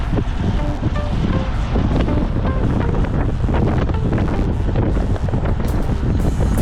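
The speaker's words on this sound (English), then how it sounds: "Listen to that wind." Rushing wind noise while cycling fast on a road, a loud, constant broadband roar buffeting the microphone throughout with no break.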